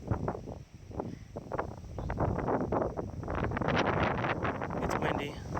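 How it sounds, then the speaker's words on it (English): Gusty wind buffets the microphone on the Angel's Rest overlook above Pearisburg along the Appalachian Trail, a loud, continuous rushing roar with repeated surges and no talk over it. "It's windy."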